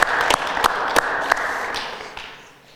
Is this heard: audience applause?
yes